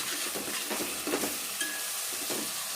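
Raw fish curry with masala frying and being stirred in a pan, a constant hiss of sizzling oil with soft scraping strokes running underneath.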